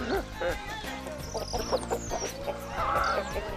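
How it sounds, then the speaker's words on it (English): A backyard rooster crows and clucks nearby, agitated calls with other bird chirps around, fairly faint overall. "That rooster is not happy about these mongoose just wandering right into his backyard."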